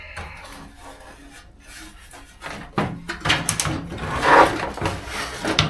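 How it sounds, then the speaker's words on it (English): Power grinder working fiberglass on a junk-built Lamborghini replica body, a broadband rasping grind that builds louder and rougher toward the end, with no voices. "more grinding fiberglass"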